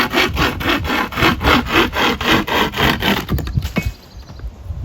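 A compact survival-kit saw cuts through wood, giving loud, close, rhythmic rasping strokes at an even pace before stopping near the end.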